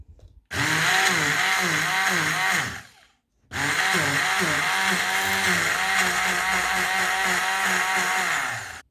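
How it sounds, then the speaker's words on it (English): A hand blender grinding poppy seeds whirs loudly in two bursts, running about two seconds, pausing briefly, then grinding steadily for five more seconds. "Now use hand blender and grate poppy seeds."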